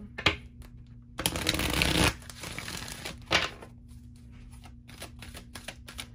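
Tarot cards being shuffled and pulled, a long close riffling shuffle followed by shorter crisp snaps and slides of single cards against a quiet background hum.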